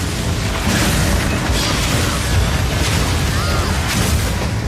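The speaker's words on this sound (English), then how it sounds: "Incendiary bolts." Incendiary crossbow bolts explode in the Path of Exile 2 video game, a dense run of booming, crackling bursts over a constant rumbling background, with several sharper impacts standing out.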